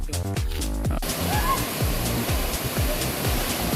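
Imelda Falls pours with a steady, dense rush of water close by. It starts after a brief burst of voice and music in the first second, then fills the rest alone.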